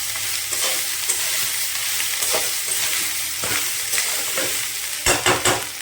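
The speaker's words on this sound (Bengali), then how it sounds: "ভালো করে নেড়ে চেড়ে নেবো।" Panta rice mixture is stirred in a pan over a low gas flame, with a steady bright frying hiss and repeated soft spatula scrapes that cluster more tightly near the end.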